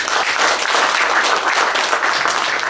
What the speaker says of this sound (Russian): Аплодисменты им за это.